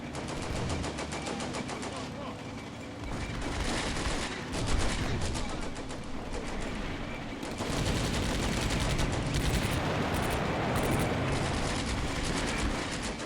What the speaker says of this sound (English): Dropping the heavy artillery right on top of them.